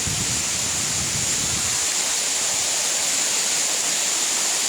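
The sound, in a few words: small waterfall with mist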